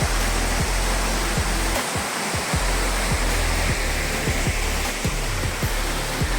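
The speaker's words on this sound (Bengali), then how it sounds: "এই যে সেই ঝর্ণার জল পাথরের ওপর দিয়ে আসছে, এখান দিয়ে বয়ে যাচ্ছে" A cold mountain torrent pours over rocks, a loud, continuous rushing roar filling the whole clip with no voices.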